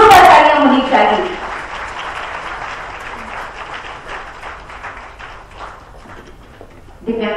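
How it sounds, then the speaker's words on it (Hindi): Crowd applause at a public event in Jharkhand honouring people with disabilities, a loud burst of clapping that settles into a sustained, even patter before an announcer's voice cuts back in at the end. "जोरदार तालियां होनी चाहिए।"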